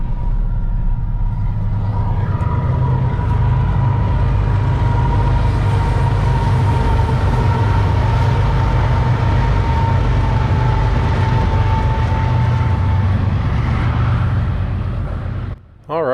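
A heavy freight train standing still at Winslow, Arizona rumbles low and steady, its deep idling drone filling the whole stretch, loud and close, cutting off abruptly at the end.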